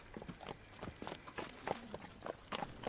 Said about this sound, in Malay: Bunyi kaki orang melangkah jelas kedengaran dan diteruti dengan bunyi tapak kaki kuda di luar bilik.